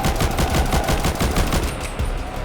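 Rapid gunfire from a weapon in a Minecraft horror mod, a loud, fast run of close, punchy shots that stops abruptly near the end.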